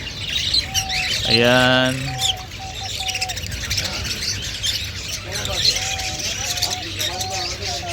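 A crowd of lovebirds in a caged bird display chirps and squawks in shrill bursts, with one loud rising call standing out. Someone talks briefly over the flock.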